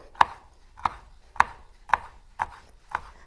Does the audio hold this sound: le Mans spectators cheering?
no